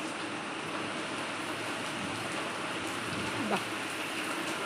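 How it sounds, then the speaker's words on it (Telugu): Heavy rain pours steadily in Hanamkonda as a broad, even wash of noise with no letup, with a brief higher chirp near the end. "ఈరోజు కూడా చూడండి ఎంత వర్షమో"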